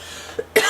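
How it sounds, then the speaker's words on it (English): A single short, sharp human cough bursts out near the end, preceded by a faint throat sound in an otherwise quiet room. "I'm going to cough throughout this video"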